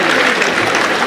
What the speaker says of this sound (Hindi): एक बार जोरदार तालियां अपने लिए बजाइए।